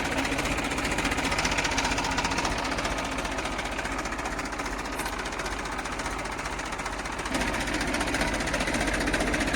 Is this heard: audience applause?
no